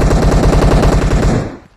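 Rapid automatic gunfire in a video game, a loud, close burst of evenly spaced shots in a fast rhythm that stops abruptly and fades out after about a second and a half.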